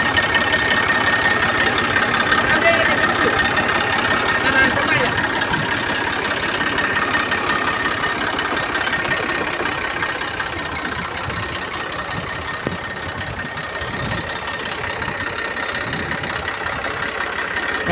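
A tractor engine idles and chugs steadily for the whole stretch while running a pesticide sprayer in a field, a close, continuous mechanical drone with no voices.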